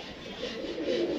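Pigeons on a rooftop giving low, soft cooing that swells toward the end, fairly quiet and close.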